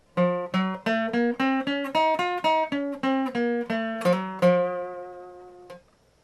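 A plucked instrument plays a scale in the Phrygian mode, stepping up and back down note by note at an even pace, ending on a ringing held tone.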